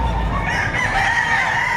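Chickens at a livestock auction market in Padre Garcia, Batangas, give a brief burst of crowing and clucking, fairly close and loud against a busy background with voices nearby.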